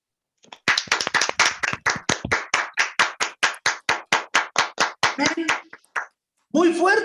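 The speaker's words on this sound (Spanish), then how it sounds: "Un fuerte aplauso a nuestro Señor Jesucristo" A church congregation claps in tight unison, about twenty sharp, evenly spaced claps in a steady rhythm, loud and close, before the beat breaks off and a voice speaks.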